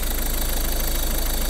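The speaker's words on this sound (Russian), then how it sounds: "но мотор в принципе работает нормально" A Ford Focus engine idles with an intercooler seeping oil, giving a steady, loud mechanical hum and a fine even vibration that runs unbroken with no voices.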